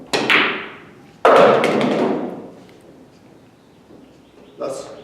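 Pool balls clacking on a billiards table during a straight-in bank shot, three sharp knocks spaced over a few seconds, each ringing briefly before fading, with no talking.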